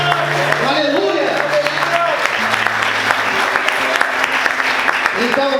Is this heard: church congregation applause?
yes